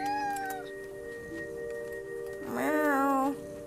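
A cat's drawn-out meows in the video game What Remains of Edith Finch, one falling cry early and a louder rising-falling meow near the end over a steady synth tone, no talking.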